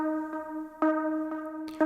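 A Furcloud energy block synth patch in Serum plays a bright, vocal-chop-like tone, steady held notes punctuated by sharp rhythmic retriggers roughly every half second, clean and alone.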